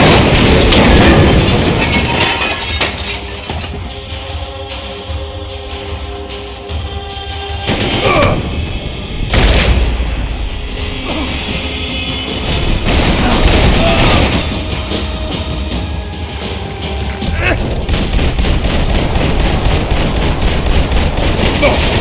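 Gunfire in the video game Max Payne 3: sustained shots and bursts crackle through a loud, busy action scene, with a few heavier booms and voices speaking over parts of it.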